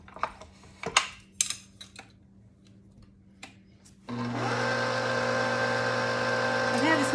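A 6-quart KitchenAid stand mixer switches on partway through and whirs steadily with a loud, tonal motor hum while beating pumpkin cheesecake batter, after a stretch of scattered kitchen clatter and taps.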